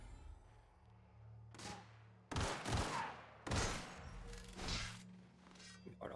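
Gunfire in The Outer Worlds on Nintendo Switch: several heavy, booming bursts of shots in close succession, loud and near, with short gaps between volleys.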